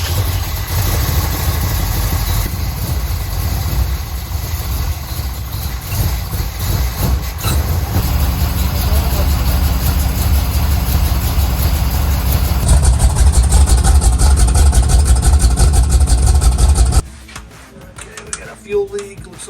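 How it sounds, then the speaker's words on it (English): A 1969 Chevelle engine with a faulty, leaking carburetor, fed gas poured into it, runs loud and steady at a rough idle for about seventeen seconds, then cuts out abruptly, leaving quieter clatter and a few bumps. "It's about to pour some gas into the carburetor and fire it up."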